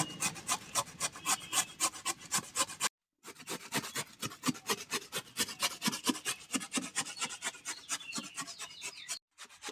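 Radish being grated by hand on a grater, a steady run of rhythmic rasping strokes close by, pausing briefly twice before continuing.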